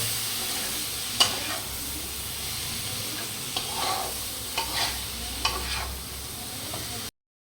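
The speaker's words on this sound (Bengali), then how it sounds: "তারপরে দেওয়া হইতেছে এটার ভিতরে বেগুন।" Eggplant goes into a pan of frying tengra fish masala, giving a steady close sizzle with several sharp stirring scrapes and clinks scattered through, then cutting off abruptly.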